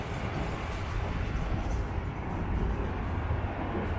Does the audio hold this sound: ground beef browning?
no